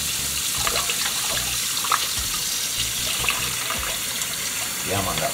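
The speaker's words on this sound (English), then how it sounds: "You have to make sure so you wash your meat and make sure it's well clean." Tap water runs steadily into a sink as fish is washed in a Jamaican kitchen, a constant splashing hiss with occasional louder splashes and a voice talking over it.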